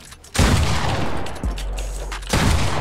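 Shotgun blasts in the Fortnite video game during a building and editing warm-up course: a loud, sudden burst of gunfire with booming low-end tails, a second heavy shot partway through and another at the end.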